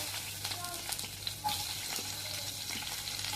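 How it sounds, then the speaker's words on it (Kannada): Cauliflower florets fry in oil for dhaba-style aloo gobi, giving a continuous close sizzle with occasional stirring scrapes and light clinks. "ಫ್ಲವರ್ ಫ್ರೈ ಮಾಡ್ಕೊಂಡು ತೊಗೊಳೋಣ."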